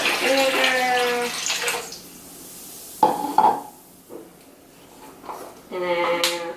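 Apple cider vinegar is poured into warm water already mixed with baking soda, a short splashy pour and gurgle between stretches of someone talking.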